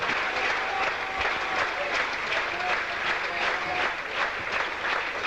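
A cricket crowd at a Test match in Sri Lanka applauds a batsman walking off after his innings, with sustained, steady clapping spread across the ground.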